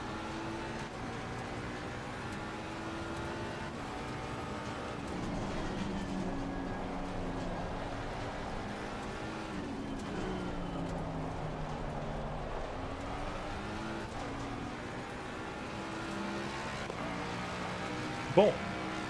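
Racing car engines, a Mustang and a Porsche, lapping the Nürburgring in a video game: droning engine tones rise and fall through gear changes and corners at moderate volume beneath steady spoken commentary, with a brief sharp knock near the end.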